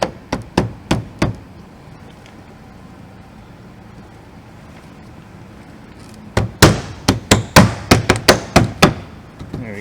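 A rear bumper on a 2017–2022 Tesla Model 3 is pushed over its bracket, producing a few sharp knocks, a quiet pause, then a quick flurry of loud plastic thumps and clacks up close.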